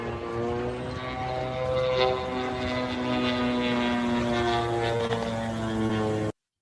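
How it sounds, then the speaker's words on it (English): Ababil Qasif drone flying overhead, a steady propeller-engine drone that holds for about six seconds with a sustained harmonic whine and slight swells, then cuts off abruptly. "So that's the Ababil Qasif drone."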